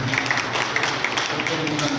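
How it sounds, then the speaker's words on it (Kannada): Applause from the audience at an office inauguration ceremony in a community hall in Bengaluru, a dense, steady patter of clapping with voices mixed in. "ನಾವೆಲ್ಲರೂ ಜೋರಾದ ಚಪ್ಪಾಳೆಯನ್ನು"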